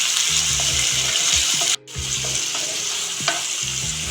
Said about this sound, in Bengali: এখন আমি 2টো মিডিয়াম সাইজের পেঁয়াজ কুচি করে দিয়ে দিচ্ছি। পেঁয়াজটাকে আমি ব্রাউন করে ভেজে নেব।